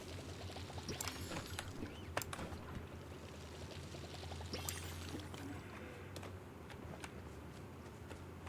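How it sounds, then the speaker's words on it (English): Water pours steadily over trees being watered in a video game, a continuous soft splashing stream set against layered game music and ambient tones, with no talking. "Let's water these trees."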